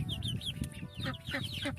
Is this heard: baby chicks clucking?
yes